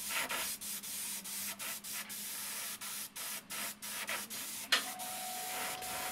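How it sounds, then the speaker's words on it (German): A Badger Renegade Krome airbrush spraying paint onto a landscape scene, a close soft hiss in a rapid series of short bursts broken by brief pauses, with no voices. "Auf der rechten Seite der Berghälfte sprühe ich ein bisschen mehr Farbe"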